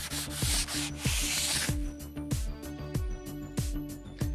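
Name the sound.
rubbing off excess Rubio Monocoat oil finish on wood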